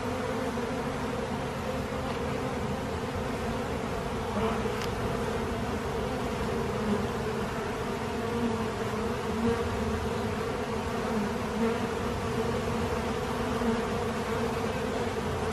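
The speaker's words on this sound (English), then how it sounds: "all the bees will just start marching in." A honeybee swarm marching into a hive box makes a dense, steady, close buzzing hum that holds at an even level throughout, with no voices.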